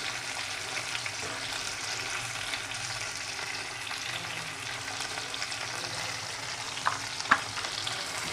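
Ingredients sizzle in a frying pan while a Bengali steamed egg and paneer kalia is being cooked. The frying hiss is steady and continuous, with a few small clicks and a sharper stirring knock near the end.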